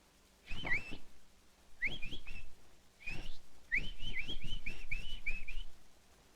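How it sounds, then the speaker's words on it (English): A nightingale sings a series of bright, whistled phrases in short bursts with brief pauses, clear and fairly close over a faint low hum. "Ever heard the nightingale?"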